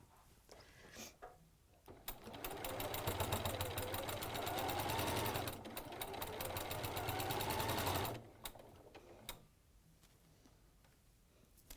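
A sewing machine stitching a quarter-inch seam runs in a fast, even mechanical patter for about six seconds with a short pause midway, framed by lighter clicks and handling sounds before and after.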